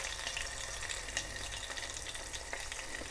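Crushed garlic cloves sizzling and frying in hot oil for dal, a steady, even crackle that holds at moderate volume throughout with small pops.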